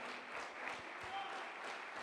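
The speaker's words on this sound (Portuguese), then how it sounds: "Dê a Jesus uma salva de palmas, porque isso é maravilhoso." A Portuguese-speaking church conference audience breaks into a full, sustained round of clapping that stays steady throughout.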